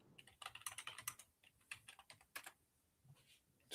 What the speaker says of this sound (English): you didn't even mute yourself while you were typing